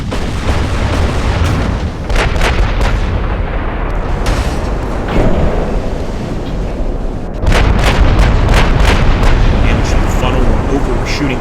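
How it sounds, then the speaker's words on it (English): Naval guns fire at an enemy ship during a battle in the warship game Ultimate Admiral Dreadnoughts. Loud, continuous rumbling booms pile up, with sharper cracking reports near the end, over a dense battle din. "Shooting over the enemy ship."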